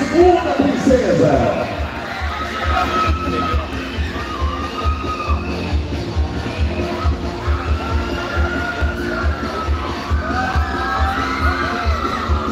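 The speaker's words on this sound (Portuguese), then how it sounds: "Pode aplaudir Larissa Rezende dos Santos, a nossa segunda princesa." Audience at a live Brazilian beauty pageant crowning its second princess cheers and shouts with continuous crowd noise, whoops and children's yells sustained loudly throughout, with speech mixed in.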